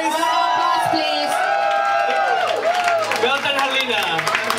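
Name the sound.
audience applause at beauty pageant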